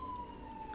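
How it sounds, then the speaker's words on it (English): Faint, distant ambulance siren drifting past nearby, a thin steady wail under low background noise, heard alone without talk. "There was some ambulance going by nearby."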